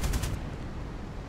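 In the War Thunder game, a VB.10-C aircraft fires its cannon in a quick burst of about three loud, close shots, then leaves a steady engine drone.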